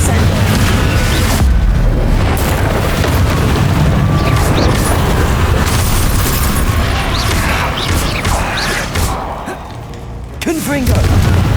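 Confringo blasting spells exploding in Hogwarts Legacy, a dense barrage of loud booms and crashing bursts that continues almost without a break and dips only briefly before a final heavy blast.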